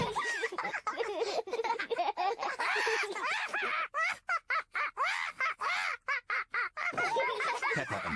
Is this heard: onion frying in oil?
no